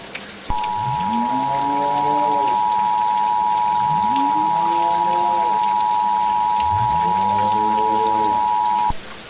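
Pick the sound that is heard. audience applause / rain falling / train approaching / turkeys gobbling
rain falling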